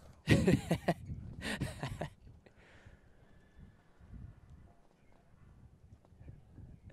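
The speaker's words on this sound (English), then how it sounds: "this little horse has a pretty good step on him, doesn't he?" A small horse trots on a cross-country outing, close hooves clip-clopping in quick bursts for about two seconds before fading into soft wind and quiet ground noise.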